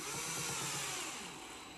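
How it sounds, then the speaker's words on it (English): A power drill driving 3x10 bolts into a Team Associated B74 RC car chassis, a faint, steady whirring burst lasting under two seconds with no talk. "I'm going to toss these ones in with a drill."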